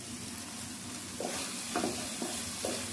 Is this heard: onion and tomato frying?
yes